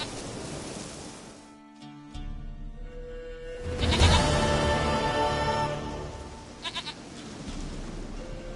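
Goat bleating in The Witcher 3, several wavering cries over a dense game backdrop that cuts out briefly, then a louder bleat rises near the middle before the bleating trails off.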